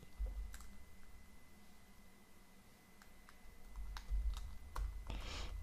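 Sparse, quiet keyboard clicks come in scattered bursts over a faint background hiss, with a quicker flurry of typing near the end.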